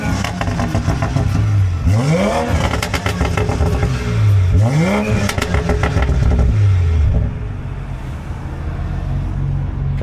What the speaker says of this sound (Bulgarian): Сега ще ви покажем как звучи след downpipe.